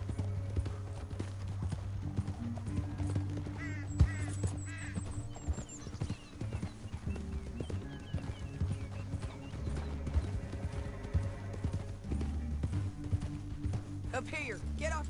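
Horses' hooves clip-clop and gallop steadily across open ground in the Western video game Red Dead Redemption 2. A horse whinnies, and voices talk over the continuous hoofbeats.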